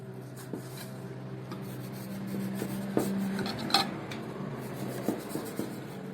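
Knife cutting through a hot, freshly cooked spinach gözleme made from yeasted dough: quiet scraping and rubbing with a few sharp taps on a surface and no talking.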